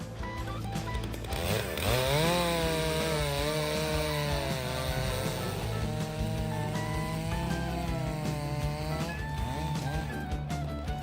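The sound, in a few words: Stihl MS661 chainsaw cutting wood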